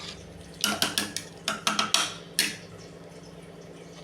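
A spoon scrapes and clinks against a pot of tomato rice in a string of sharp, close clatters for a couple of seconds, then settles into quiet kitchen background.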